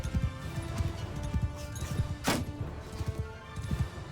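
Cavalry horses charging in a Mount & Blade II Bannerlord battle, a dense, continuous thunder of hooves with thuds and clashes and one sharp crash, loud and close.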